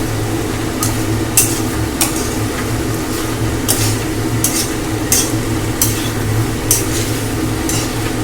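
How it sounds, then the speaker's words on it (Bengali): Potatoes stirred into spices in a frying pan, a steady sizzle underneath with repeated scraping strokes of a spoon or spatula every second or so, close and alone. "আলুটা ঢেলে মশলার সঙ্গে কিন্তু সুন্দর করে আলুটাকে মিশিয়ে নেব।"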